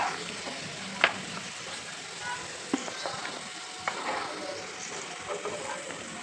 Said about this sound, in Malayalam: കാഷ്നട്ട് ഫ്രൈ ചെയ്തെടുക്കാം